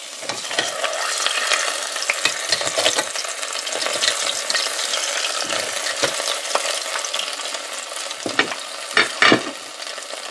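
Fish fries in hot oil in a pan, with a loud, continuous sizzle and crackle that runs steadily throughout, broken by a few brief spatters and shifts near the end.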